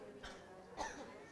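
A person gives two short coughs in a room, the second louder, close and fairly quiet, with no other talk.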